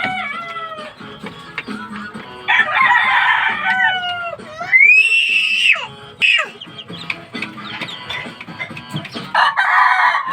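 Chickens cluck and a rooster crows in a backyard chicken coop, loud and close, with overlapping calls and squawks that rise and fall throughout.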